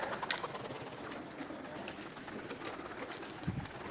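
Pigeons coo softly in low, murmuring calls against a faint outdoor background, with some light rustling and flutters.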